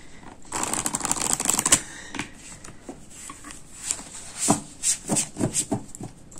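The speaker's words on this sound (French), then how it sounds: "Je vais déjà vous montrer comment ils se mélangent." Oracle card deck being shuffled by hand, with a dense burst of riffling card flutter first, then a series of separate soft slaps and riffles, close and moderately loud.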